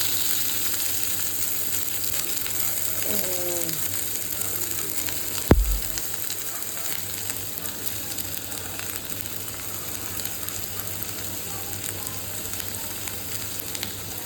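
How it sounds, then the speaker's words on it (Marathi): Onion fries in oil for phodnichi poli, a steady, close sizzle and crackle that fills the whole stretch, with a single sharp clack partway through and no talking. "पहिले आपला कांदा परतून घेऊया."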